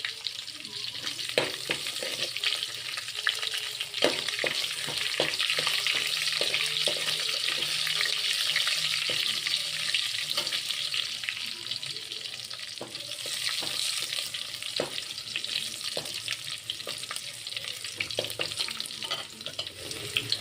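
Chopped garlic fries in hot oil for a tadka, giving a loud, continuous crackling sizzle with scattered sharp pops throughout, heard close up with no voices.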